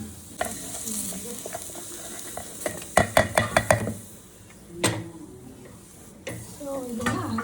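Tomato fries in a pan with onion, chili, mint and coriander, giving a continuous close sizzle broken by a quick run of sharp spoon-on-pan scraping knocks and a few later clanks.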